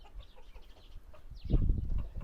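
A hen clucks close by, a few low, throaty clucks growing louder in the second half after quiet rustling.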